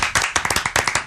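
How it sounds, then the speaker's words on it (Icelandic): A small group claps in a radio studio, brisk quick hand claps close to the microphone, lasting about a second without a voice over them. "við gefum honum gott klapp"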